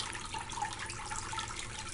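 Slow, thin sheet of water running down a gold recovery water table set at about a 5% angle, a steady soft trickling wash with no talk.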